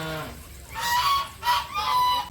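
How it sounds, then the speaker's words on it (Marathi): Ducks at a temple give loud, close, nasal honking quacks, three calls in quick succession with a brief gap between them. "इथे बदक आहेत हा एक वेगळ्या कलरचा बदक आहे"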